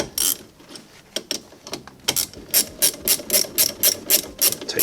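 A hand ratchet tightens a 14mm bolt during a rear brake replacement on a G20, giving quick clicking bursts followed by a steady run of rhythmic ratcheting strokes, close and clear with no talking.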